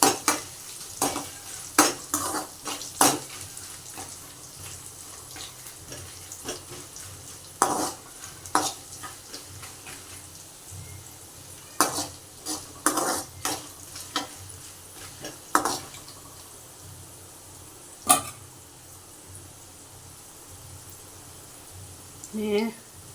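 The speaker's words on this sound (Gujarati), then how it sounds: "દાણાને થોડાક આપણે ફ્રાય કરીશું." Sabudana and potatoes fry in a pan while a utensil stirs and scrapes, giving irregular clattering knocks over a soft continuous sizzle, with a voice talking at times.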